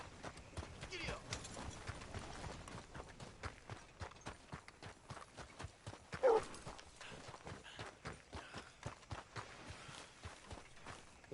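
Horse hooves clip-clop in a steady gallop in Red Dead Redemption, the rapid beats running under game music and a voice calling out.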